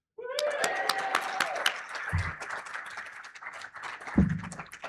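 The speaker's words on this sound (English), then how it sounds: "a round of applause for the tremendous red shirts" A small group at a Rotary new-member meeting gives a round of applause, with light scattered claps mixed with voices and a couple of low thumps, moderately quiet and brief.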